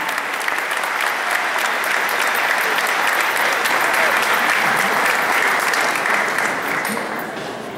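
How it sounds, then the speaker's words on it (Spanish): Dense, sustained applause from a theatre audience at an awards night in Teatro El Círculo, Rosario, filling the room loudly for several seconds before tapering slightly at the end. "fuerte el aplauso que vibre en esta noche de la familia rosarina"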